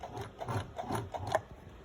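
Home sewing machine mechanism clicking and whirring as its handwheel is turned by hand, a soft repeated rhythm of small mechanical ticks, close and alone.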